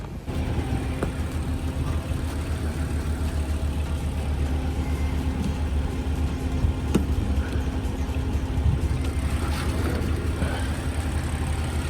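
A parked BMW E92 M3 idles steadily nearby, a constant low rumbling drone with faint clicks and no talking.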